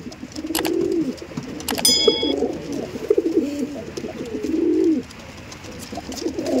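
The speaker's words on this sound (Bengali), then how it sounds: "এটাগুলো কিন্তু সব দিল্লি থেকে আনা পায়রা" Madras pigeons brought from Delhi coo in a loft, giving several soft, low, throaty rolling coos, close by. A few faint clicks and a short high tone come in the middle.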